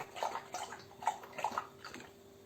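A dog laps water from a bowl, giving a quiet, steady run of wet slurping splashes at close range with no talk.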